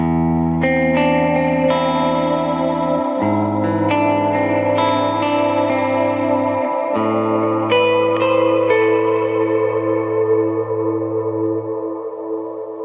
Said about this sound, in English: I turn the crystal delay off, cirrus reverb on, and this is some kind of my clean channel.